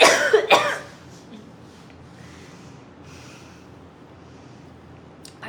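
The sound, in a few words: coughing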